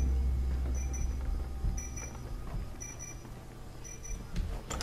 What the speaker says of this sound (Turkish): O turn off the alarm diyor.